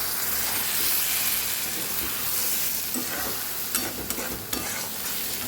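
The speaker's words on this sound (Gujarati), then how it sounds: "હવે આપણે ખોલીને બધું મિક્સ કરી લઈશું." Stuffed green chili curry, Kathiyawadi style, is stirred in a sizzling pan, with a steady frying hiss under scraping strokes of a spoon and a few sharper clinks near the end.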